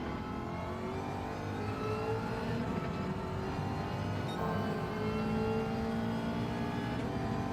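A race car engine in Gran Turismo 7 revs steadily through the gears at high pitch, a continuous loud whine with shifting tones lasting the whole stretch, no voices over it.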